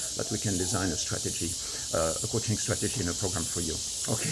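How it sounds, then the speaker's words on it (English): Crickets chirp outdoors on a sunny day in Bali, a steady high-pitched shimmer running continuously beneath a person talking close to the microphone. "It's sunny, and you hear the crickets in the background."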